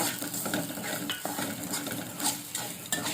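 Oil sizzles steadily in a pan while a utensil stirs and scrapes, with a few soft metallic clinks, while frying for Tamil egg curry (muttai kulambu).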